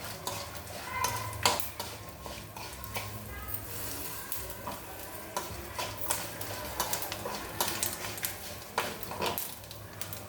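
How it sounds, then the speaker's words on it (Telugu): Tempering spices (popu) frying in hot oil in a pan: steady close crackling sizzle with scattered sharp pops and occasional stirring clinks throughout. "ఇదేనండి పోపు తేగటం."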